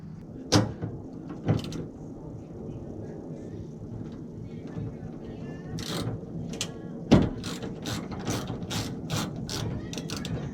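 A ratchet with a 10mm socket works on a 2016 Toyota Tundra, starting with a few isolated knocks and then turning into quick clicking bursts over a quiet, low background.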